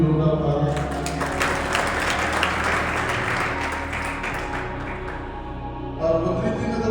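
Sustained applause from a crowd at a marathon event, dense clapping that holds steady for several seconds, with a slight renewed swell near the end.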